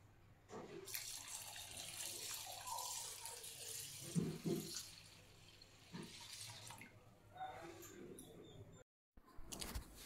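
Ration rice washed by hand in a vessel of water before making khichiya papad, with close sloshing and swirling water, a brief louder rub midway, and a short gap of near silence before splashing resumes.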